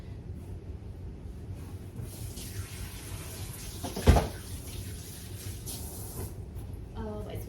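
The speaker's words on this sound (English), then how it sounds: "Gonna wash my hands." Hands are washed under a running kitchen tap, giving a steady rushing water flow with a brief louder splash midway, heard close and continuous.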